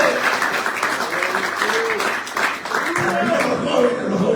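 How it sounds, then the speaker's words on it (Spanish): A church congregation applauds during a pastor's sermon, a steady wash of clapping with a voice speaking over it throughout. "Dale un mejor aplauso al Señor"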